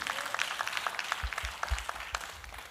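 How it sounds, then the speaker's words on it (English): Audience applause at a Houston Juneteenth community event, honoring the vocalists and spoken word artists, with scattered claps and a few low thumps over a steady crowd wash, fairly faint and somewhat distant. "Another round of applause, please"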